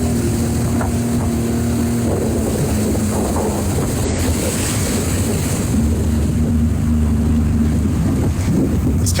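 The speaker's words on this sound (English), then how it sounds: "This guy just jumped on a jet ski." A jet ski engine runs on open water, a steady droning motor hum with splashing and rushing water over the whole stretch, moderately loud and without talk.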